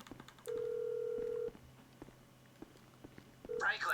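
A telephone in a Grand Theft Auto-style video game gives a steady one-second tone, then a short electronic click as the call is hung up, with faint game ambience underneath.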